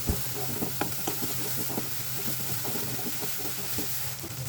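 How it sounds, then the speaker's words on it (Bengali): Dried fish paste (chepa shutki) sizzles and is stirred in a pan with ground garlic and dried chili, a steady close frying hiss broken by scrapes of the spatula. "এখন আমি শুটকির বাটাটা দিয়ে দিলাম"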